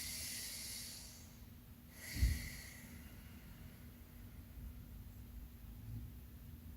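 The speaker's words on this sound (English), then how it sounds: "taking a deep breath" Slow, deep nasal breaths during a yoga sun salutation, one sharp airy exhale around the middle, heard close and soft against a faint hiss.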